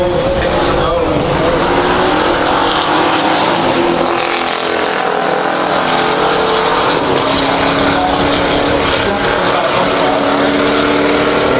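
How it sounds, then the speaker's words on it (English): A 1965 Pontiac GTO with a 389 Tri-Power engine making 360 horsepower drag races a 1970 AMC AMX 390 in a pure stock class, their engines giving a loud, sustained roar. An announcer's voice runs underneath. "65 GTO Ford 389 Tri-Power, 360 horsepower going against this 1970 AMC Amx owned by Joe Pixano."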